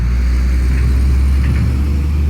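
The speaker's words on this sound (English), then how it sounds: "That is a dump truck going past us right now." A dump truck rolls past on a nearby road in a loud, continuous low rumble that holds steady throughout, with no voices over it.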